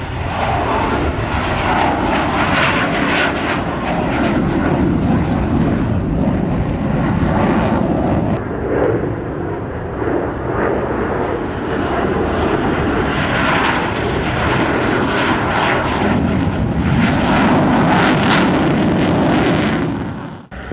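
Aircraft from the 104th Fighter Squadron of Massachusetts fly at the 2000 NAS Oceana air show, a loud sustained jet roar that swells and rushes past with wind buffeting, heard without voices.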